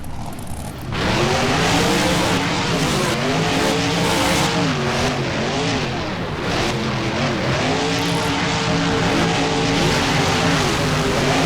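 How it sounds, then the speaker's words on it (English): Monster truck engines in the BeamNG racing game roar loudly and continuously at a stadium, pitch rising and falling as the trucks rev and accelerate together through the whole stretch, with no talking. "Both trucks roar to life, and it's a close race"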